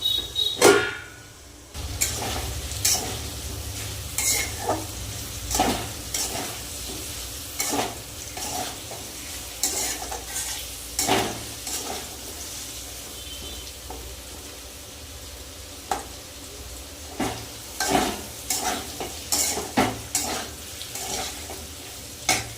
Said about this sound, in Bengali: আলু আর পটল তো ভালোভাবে ভাজা হয়ে গেছে